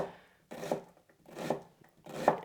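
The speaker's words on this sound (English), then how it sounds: "I'm just cutting this red onion for a salsa for the chicken tacos" A knife cuts through red onion on a board in three evenly spaced, crisp chops with short pauses between them, close up and quiet, with no talking.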